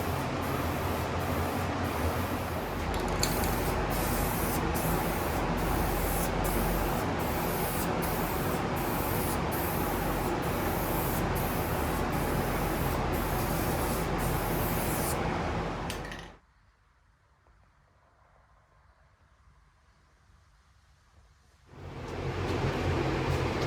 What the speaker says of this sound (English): Start my first coat of gloss black now.